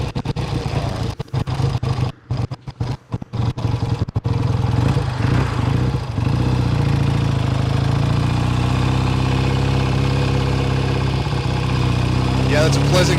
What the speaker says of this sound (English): that's a pleasant growl from the Big Twin